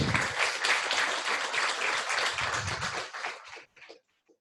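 An audience at a tech meetup claps for the speakers who have just finished. A dense round of applause holds steady, then thins to a few scattered claps and stops.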